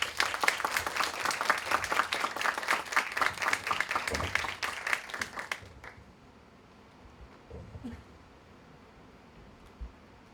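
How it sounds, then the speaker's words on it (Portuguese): Lively audience applause for a woman being introduced at an event, loud and dense with clear individual claps, then cutting off abruptly to a quiet room with a few faint stray noises. "Muitos aplausos para Graciele Costa."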